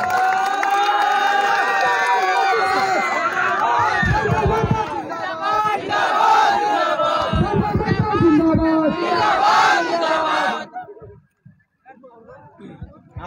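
A crowd at a village cricket tournament event cheering and shouting loudly together to welcome a chief guest, a dense roar of voices that cuts off abruptly near the end.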